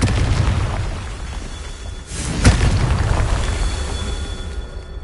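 A Confringo spell goes off in the video game Hogwarts Legacy as a single deep boom with a sharp burst midway, set against a rumbling game soundscape.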